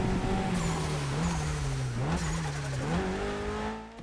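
A Mitsubishi Lancer from Fast & Furious Tokyo Drift revs in a racing video game, its engine note rising and dipping through gear changes with a brief tire squeal, loud and continuous.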